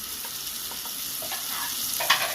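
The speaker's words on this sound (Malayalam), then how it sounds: "ഞാൻ കുറച്ച് ബട്ടർ ഇട്ട് കൊടുക്കുന്നുണ്ട്" Butter heating in a pan for chicken croquettes gives a soft, steady hiss throughout, with faint light clinks and one small pop near the end.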